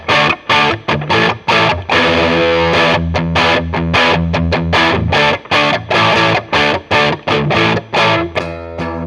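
Electric guitar played through the Palisades overdrive pedal on gain A, a gritty distorted tone in chopped strummed chords with rhythmic stops, loud and up close with no voices.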